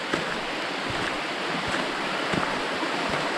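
A brook flows steadily beside a hiking trail on the Long Trail, its continuous rushing water close and fairly loud, with no voices over it.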